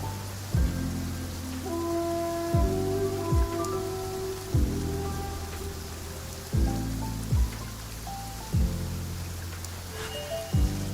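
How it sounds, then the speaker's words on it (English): Steady rain patters on a surface in Genshin Impact, with dull thuds landing every second or two over the constant hiss. "Let us find shelter from the rain."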